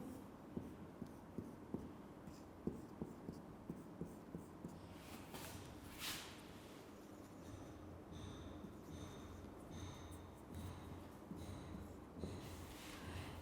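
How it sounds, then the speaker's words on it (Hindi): Marker or chalk writing on a board during a chemistry lecture, a quick series of faint tapping strokes near the start, then softer scratching and rubbing under a low room hum. "पहले इसको लिख लेते हैं।"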